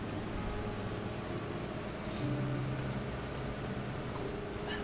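Soft, steady rain falls on an empty street at night, a faint even hiss with a low hum beneath and a few brief distant tones.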